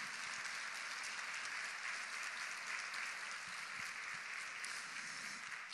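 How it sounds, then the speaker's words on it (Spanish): Church congregation applauding in a broad, steady wash of many hands clapping, sustained and fairly distant, with no talk over it. "denle un aplauso al Señor"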